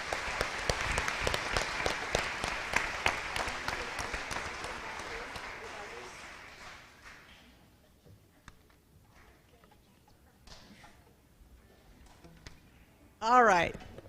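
An audience claps for three seniors at a junior jammers event, a busy burst of applause that thins out and fades after about seven seconds into scattered claps, followed by a short burst of other sound at the end.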